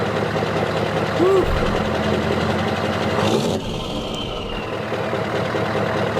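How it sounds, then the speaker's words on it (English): A Scania V8 diesel truck engine runs with a deep, steady throbbing rumble close by, with a brief louder surge partway through; someone talks over it. "V8 diesel from Scania. One of the best sounds ever."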